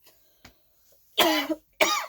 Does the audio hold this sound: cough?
yes